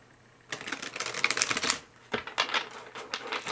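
Oracle cards from the Life Soul Vision Oracle deck shuffle and riffle close by, with a burst of rapid crisp flutters, a brief pause, then another quick round of card slaps.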